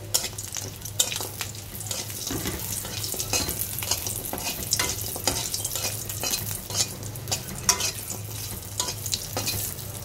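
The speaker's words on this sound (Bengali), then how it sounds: "কাঁচকলার ডালের বড়ি ভেজে নেব।" Lentil dumplings (bori) made with green banana fry in oil, giving a continuous crackling sizzle broken by frequent scraping and clinking strokes of a stirring utensil.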